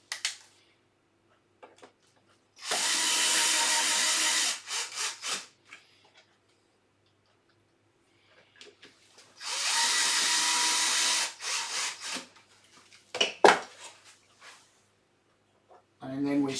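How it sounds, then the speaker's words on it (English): Power drill driving screws back into a wooden apothecary chest in a box-making workshop, heard as two sustained whirring bursts of a couple of seconds each, with quieter handling knocks and rubbing between them. "Put the screws back in."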